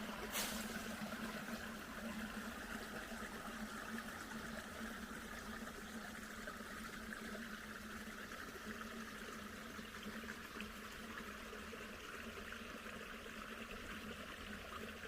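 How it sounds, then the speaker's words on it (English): A babbling creek runs right alongside a forest hiking trail on the way to Tabor Falls, giving a steady, faint, unbroken rush of flowing water for the whole stretch with no voices. "here's another shot of that babbling creek that runs right alongside the trail here"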